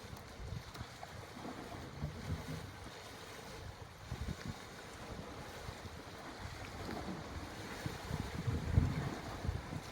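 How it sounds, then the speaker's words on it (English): Wind gusting over the sea off the Guernsey coast: continuous rushing and buffeting against the microphone, with wash of waves underneath, growing slightly stronger toward the end and no voices. "the wind is just starting to pick up a bit"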